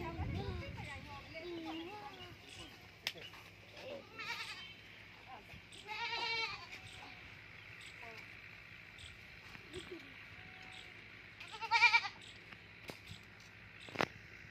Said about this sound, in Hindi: वो आई नहीं रही इधर बकरी, उसके कान से पकड़ के खींच रहा उसको।